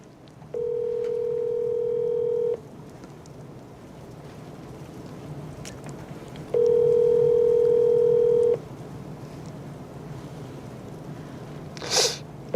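Telephone ringback tone while placing a call: two long steady beeps a few seconds apart over a faint background hiss, followed by a short sharp noise near the end.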